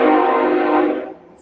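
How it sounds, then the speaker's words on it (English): A passing train sounds its horn loudly and close by, a sustained blast that holds steady and then fades off, with no talking over it. "let me let this train go"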